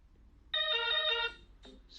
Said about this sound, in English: Your wife is ringing the phone.